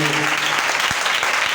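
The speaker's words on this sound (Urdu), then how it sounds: "آئیے زوردار تالی بجائیں خدا کے کلام کے لیے" A church congregation at a Thursday night ministry meeting claps loudly, a dense, sustained wash of applause filling the room, with brief voice sounds at the start.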